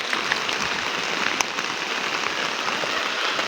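Rain falling steadily on a poultry farm shed, a dense continuous patter on the surface with scattered sharper drips, even and fairly loud throughout.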